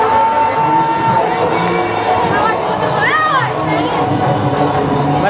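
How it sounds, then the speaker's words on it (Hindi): A packed crowd of devotees in a pandal at a Shrimad Bhagwat katha in West Bengal, a loud, continuous wash of overlapping chatter and raised voices, with occasional shouts rising above the dense steady murmur. "इतना ज़्यादा मतलब भीड़ है वहाँ पे पंडाल में, पंडाल पूरी तरह से भरा हुआ है"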